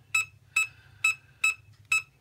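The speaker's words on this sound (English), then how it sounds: "it will start to chirp or do a few false beeps here and there" A Time Ranger metal detector gives five short, evenly spaced electronic beeps about half a second apart over a faint low hum.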